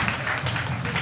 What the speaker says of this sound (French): Donc, vous pouvez applaudir pour elle.